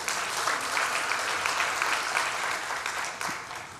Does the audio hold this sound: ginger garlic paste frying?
no